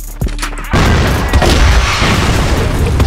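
A grenade goes off in a video game shooter match: a few quiet taps, then a sudden heavy boom that swells into sustained loud rumbling and gunfire-like crackle.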